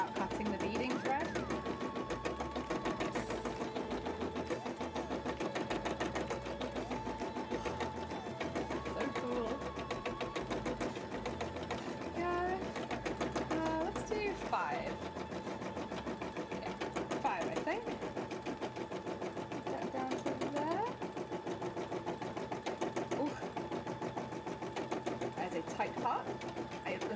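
Sewing machine stitching a seam on a beaded cosplay costume, a fast continuous mechanical whirr with rapid needle ticking running steadily at moderate level, with people talking faintly underneath.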